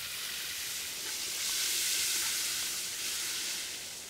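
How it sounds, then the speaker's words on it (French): Meat sears against the sides of a hot pot over an outdoor fire while a stew is being made, producing a steady soft hiss and sizzle that swells slightly midway. "lorsque la marmite est bien chaude, on va déposer la viande sur les parois de la marmite"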